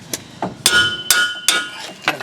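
A hammer strikes a long wrench fitted on the wheel hub bolts of a 2007 Hyundai Santa Fe FWD, giving about seven sharp metallic clanks in an uneven rhythm, loud and close.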